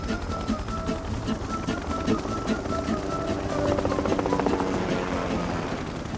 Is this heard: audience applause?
no